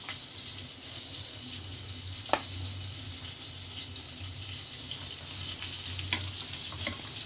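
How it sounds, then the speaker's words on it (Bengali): Butter melting in hot mustard oil with chili flakes scattered in, a steady close sizzle and fry with a few sharp ticks and pops, no voices. "মাখনটা আমি তেলে দিয়ে দিলাম, গলুক, ফ্লেভার দেবে।"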